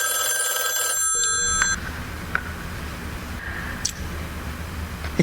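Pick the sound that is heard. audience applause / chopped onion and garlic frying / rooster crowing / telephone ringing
telephone ringing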